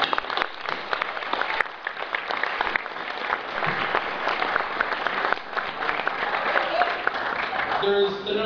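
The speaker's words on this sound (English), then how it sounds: "Quick round of applause for that." Applause from an MBA graduation audience, a dense steady patter of many hands clapping that fills the room throughout, with a voice briefly audible near the end.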